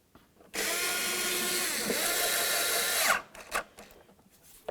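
A power tool whirs loudly for about two and a half seconds, running a radiator mounting bolt into a 2000-2005 Buick LeSabre, then stops, followed by a few short clanks and rattles nearby.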